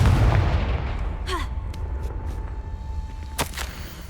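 A Confringo explosion spell in Hogwarts Legacy fires as a sharp whooshing burst, followed by a few fainter magical zaps, then a second sharp crack near the end over a low rumbling game ambience.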